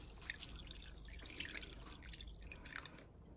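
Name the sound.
water poured into a pot of cholent stew ingredients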